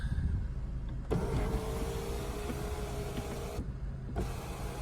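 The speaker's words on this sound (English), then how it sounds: "Sunroof works." An electric sunroof motor on a 2008 Mazda 3 runs with a steady whirring hum inside the car for a few seconds, starting and stopping abruptly, with no talking.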